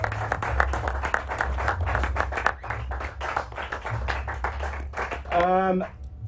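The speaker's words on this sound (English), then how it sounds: "Round of applause, ladies and gentlemen." Steady applause with many hands clapping at a games convention presentation, mixed with crowd noise and voices, ending in a brief sustained vocal shout.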